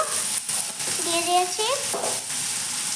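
Mixed vegetables frying in a pan with tomato and turmeric powder in a village kitchen, a steady close sizzle throughout, with a brief tonal squeak and stirring over it.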